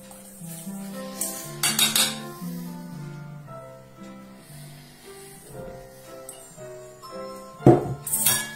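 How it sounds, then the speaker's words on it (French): A small spoon mixes flour batter in a bowl, with a few light clinks against the bowl over a quiet background of steady tones. "Je vais bien le mélanger pour que ça soit fluide. La petite cuillère magique, ça va très très bien."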